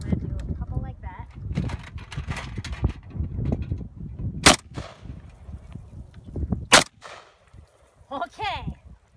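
Gunfire at an outdoor range comes in a few sharp, loud cracks, spaced apart amid people talking nearby and handling noises.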